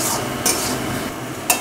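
Shrimp seasoned with salt and turmeric fry in a pan, a steady hissing sizzle broken by two sharp scraping stirs from a utensil against the pan.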